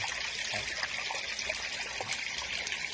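Water circulates steadily through a golden apple snail nursery pond with a swirling-flow system, giving a soft, continuous trickle and dribble that stays even and fairly faint throughout, with no voices.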